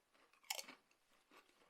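Crunching on thick ruffled potato chips, a close, sharp bite and a short burst of crisp crackling, then a softer second crunch a moment later.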